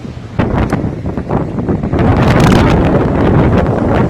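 Strong wind from Typhoon No. 17 roars and buffets a microphone outdoors, rising into a louder, rushing gust partway through and staying loud, with no talking.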